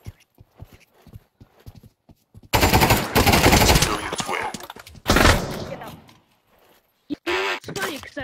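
Gunfire in the video game Pavlov erupts in long, loud bursts of rapid automatic shots, with a few sharp single shots after them and shuffling footsteps before them.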